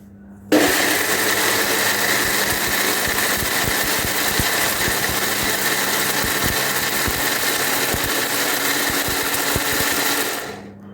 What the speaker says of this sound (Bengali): ব্লেন্ডারে এগুলো ব্লেন্ড করে নিলাম।